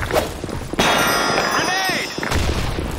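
A grenade detonates in an office setting in a video game, a sharp blast followed by ringing metallic tones and a descending whine, then a second burst of noise near the end.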